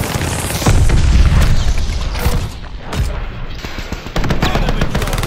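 Heavy explosive blasts and gunfire from a Call of Duty: Vanguard team deathmatch match, a frag grenade detonating among loud booms and rattling shots that continue throughout, with no talk.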